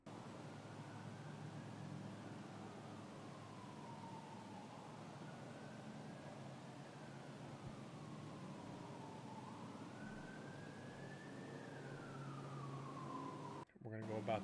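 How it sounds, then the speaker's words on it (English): An ambulance siren wails in slow rising and falling sweeps at the Nevada State Prison, faint and distant over a steady hiss of background noise. "There's the ambulance."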